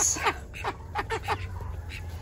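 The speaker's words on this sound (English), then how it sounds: "This is Donald's call ducks" Call ducks on a Florida farm give a run of short nasal quacks, several calls spaced irregularly over a steady low background hum, moderately near.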